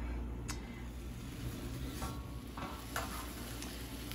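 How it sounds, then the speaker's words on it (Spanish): A tomato and serrano chiles roast in a hot pan with a steady, close sizzle, broken by a few sharp pops and crackles. "Voy a asar primeramente un jitomate y mis chiles"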